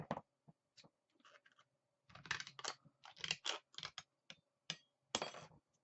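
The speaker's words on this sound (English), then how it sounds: "I'm just going to cut a strip off of it, and then cut it in half." Tin scissors cutting a strip of tin, a run of crisp close snips and metallic clicks in uneven bursts, louder in the second half, with no talk.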